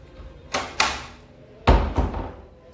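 A house door being opened during a storm, with two pairs of sharp, close thumps and rattles and short decays between them.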